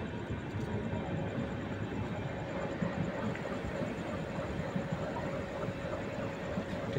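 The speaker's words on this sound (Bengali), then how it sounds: "ট্রেনটি বেরিয়ে গেল স্টেশন থেকে।" Balurghat–Howrah Express, an LHB rake, pulls out of a station with a steady, continuous rumble of wheels and rolling stock that stays close and even throughout, with no voices.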